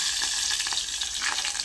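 Chopped spine gourd and onion hit hot oil in a pan, giving a steady bright sizzle and crackle with faint stirring, close and continuous with no talk.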